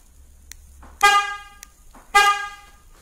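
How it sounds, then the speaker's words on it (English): Two short horn chirps from a 2014-2018 Ford Fusion hybrid as its remote start activates, heard outdoors, about a second apart and fairly loud against a quiet background. "Now we're outside the vehicle and we're going to activate remote start."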